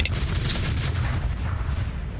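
Heavy, rumbling cannon fire during a Starsector space battle in the video game, dense overlapping booms with a crackling top end, loud and continuous.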